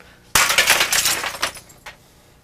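A prop bottle of Old Smuggler made of breakaway paper glass smashes with a sharp crash followed by tinkling shards settling over about a second, then one last small clink, close and loud.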